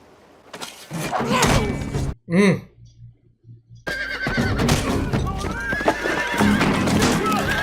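Horses whinny loudly amid busy, noisy action in the 2007 film 3:10 to Yuma, with hooves and thumps mixed under voices and music-like clutter.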